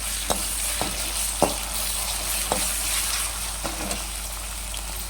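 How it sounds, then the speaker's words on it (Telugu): Ginger garlic paste fries in a pan with a steady, fairly loud sizzle, and a spoon scrapes and stirs it in sharp periodic clacks. No one speaks. "ఇలా పచ్చివాసన వరకు వేయించుకోవాలి అల్లం వెల్లిగడ్డ పేస్ట్."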